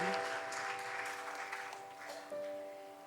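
A church congregation at a worship service applauds, a soft, distant wash of clapping under sustained keyboard tones, fairly faint and steady for about three seconds.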